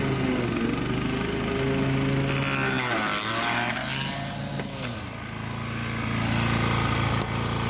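A Toro Timemaster 30-inch lawn mower churning through thick overgrown grass, its engine droning loudly and close, bogging down and dipping in pitch under load around the middle before recovering to a steady roar.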